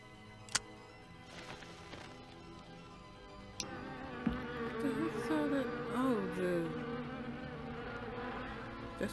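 Bees buzzing in a film scene, a steady droning hum that swells and wavers midway, with a few sharp clicks on top and no talking.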